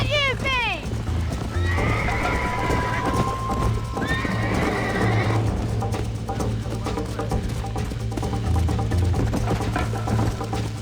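In Red Dead Redemption, a horse whinnies loudly, then hooves clip-clop at a steady gallop under continuous music, with a voice speaking briefly and another neigh midway.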